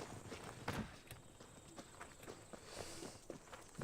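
Riding a goat in Assassin's Creed Odyssey: faint, quick hoof-like footfalls trot along irregularly over quiet ambient background, with no voices.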